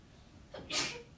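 A single sharp sneeze bursts out in a classroom, short and moderately loud against quiet room tone.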